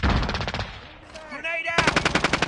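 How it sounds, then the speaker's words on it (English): Submachine gun fire in a video game, rapid rhythmic bursts of shots up close, a brief lull with a voice and beeping game sounds, then another fast burst. "He does have a submachine gun"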